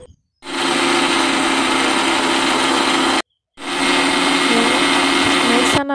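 A mixer grinder whirs loudly at full speed, grinding roasted idli podi ingredients into a coarse powder, running steadily for about three seconds, stopping briefly, then starting up again.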